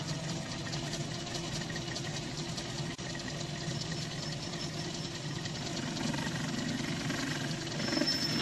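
Metal-cutting lathe running a trepan circle cutting tool on a cylinder head, belt pulleys set to middle gear with the motor at about 900; a steady, continuous machining drone and hum with no talk.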